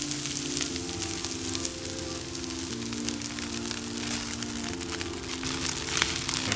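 Fried rice with butter sizzles steadily on a Blackstone griddle, a constant crackling hiss with faint scraping, close and alone.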